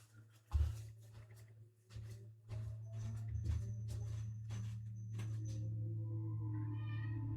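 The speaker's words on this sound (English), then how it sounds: "Do I hear Nugget meowing?" A pet cat named Nugget meows several times indoors, fairly close, over a steady low hum and background game music, with one sharper thump early on.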